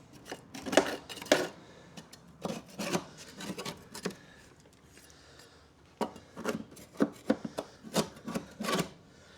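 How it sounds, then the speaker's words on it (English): Scraping crud and loose debris off a lawn mower blade with a hand tool, a series of close rasping strokes in two bursts separated by a brief pause, with no talking. "I just want to clean the crud up so the blade doesn't bog down by the stuff on the side, and scrape out some of the loose material that you can"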